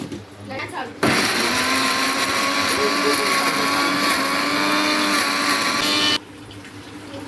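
Mixer grinder whirring loudly as it grinds garlic, ginger and a little salt for mango pickle, a steady high-pitched motor roar lasting about five seconds, then cutting off.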